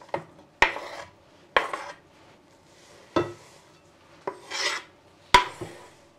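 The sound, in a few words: adding grated beetroot, greens and pickles to a salad bowl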